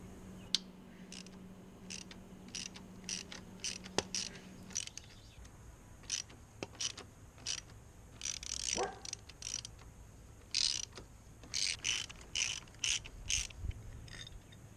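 A ratchet wrench clicks in quick, uneven bursts while removing the front motor mounts of a Harley Sportster. The clicking is quiet and close against a low hum, with scattered clanks of metal between strokes.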